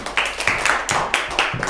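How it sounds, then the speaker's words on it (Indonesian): Clapping in a classroom for the first group of a microteaching practice session, a small group clapping in a steady rhythm for under two seconds, fairly close and with no talk over it. "tepuk tangan untuk kelompok 1"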